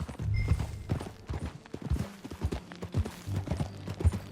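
Horse hooves clip-clop at a steady riding gait in the video game Red Dead Redemption 2, close and moderately loud, with no talking over them.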